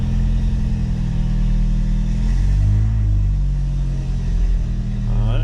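A Mk2 Jetta pulls away, its engine giving a steady, loud low rumble that rises a little partway through as the car starts moving, heard up close from inside with no talking.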